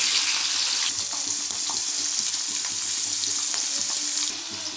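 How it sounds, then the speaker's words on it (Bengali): Steady, loud sizzling of tengra fish frying in hot oil fills the whole stretch, with occasional small crackles and pops. "মাছগুলো কিন্তু খুব হালকাভাবে ভেজে নেব"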